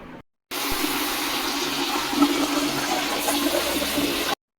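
Water gushes into a bucket from a tap in a steady, loud rush for about four seconds before cutting off abruptly.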